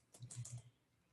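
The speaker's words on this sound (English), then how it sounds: "I started typing" Typing on a computer keyboard gives a brief burst of four or five quick, soft key clicks close by, then quiet, with no talking.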